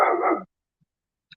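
A dog gives a single loud, close bark lasting under half a second, followed by near silence with a couple of faint distant ticks.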